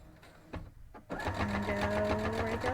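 A sewing machine stitches fabric for a Christmas centerpiece basket, starting with a couple of short clicks and then settling into a fast, steady, close mechanical whirring rattle.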